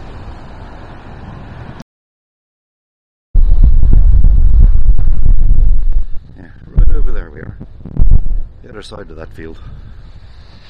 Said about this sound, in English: I don't know whether you can hear it on the microphone, but man, it is blowing.